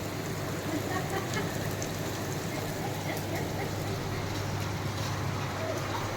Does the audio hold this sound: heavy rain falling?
yes